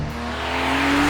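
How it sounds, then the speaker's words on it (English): A Morgan Super 3 sports car engine revs hard through an upshift, a loud, close, continuous roar with a steady rising tone and no talking. "Listen to this upshift."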